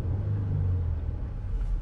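A V6 car engine rumbles and revs, a low steady drone close by with slight rise and fall, no voices.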